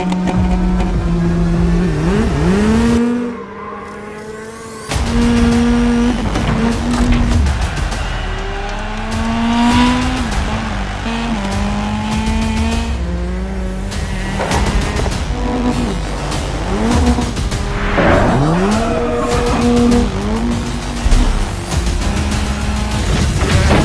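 Race cars in the DRC Generations racing video game, engines revving and shifting through gears with tire squeal, loud and continuous throughout with a brief dip in the middle.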